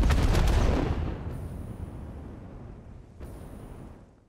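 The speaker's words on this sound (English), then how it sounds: "simply throw the bomb where you want it to go with the left click" A nobelisk bomb detonates in the Satisfactory video game, a loud, deep boom that rumbles and slowly fades over several seconds, with faint high digital tones briefly rising in the background.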